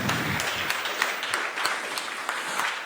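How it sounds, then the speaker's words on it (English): A short burst of audience applause at a Nextcloud conference in Berlin, many hands clapping steadily at moderate volume for a few seconds without speech. "You have a short applause for the FSFE for that video."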